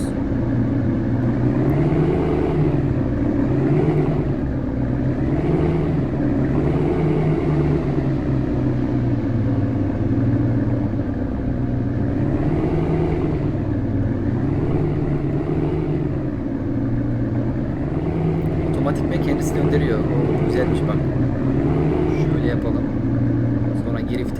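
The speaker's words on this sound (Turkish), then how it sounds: "Arabamızı çalıştırıyoruz, el frenimizi indiriyoruz." A car engine in the Real Car Parking mobile game runs steadily and loudly throughout, its idle hum rising and falling in slow waves as the car drives off, with a few faint clicks near the end.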